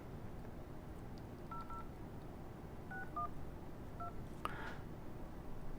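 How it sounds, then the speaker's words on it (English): A first-generation Apple iPhone touchscreen keypad gives short dialing tones, about six or seven separate beeps at uneven intervals over a quiet background hiss, with no talk. "Oh, satisfying keypad."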